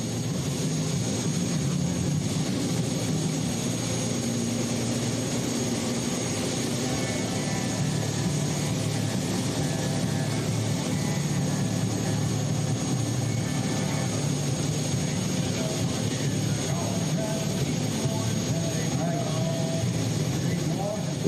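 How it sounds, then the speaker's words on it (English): The three turbine engines of a pulling tractor at a county fair pull run as a steady, loud jet-like roar with a high whine throughout, while an announcer talks over it. "get all three of those turbines"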